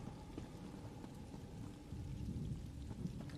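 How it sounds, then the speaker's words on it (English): Steady rain falling in the video game Elder Scrolls Online, a quiet even patter with low rumbling beneath, ambient and without voices. "Staying out of the rain."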